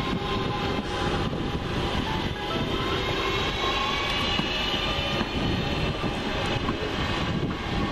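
A train passes through Four Oaks station, a steady, loud rolling rumble of wagons on rails with continuous broadband noise and a faint high whine, sustained close by throughout with no talk.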